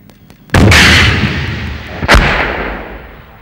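An anti-tank missile fired at a main battle tank just 150 meters away: a sudden loud blast followed by a long rushing decay, then a second sharp bang about a second and a half later as it strikes, no speech.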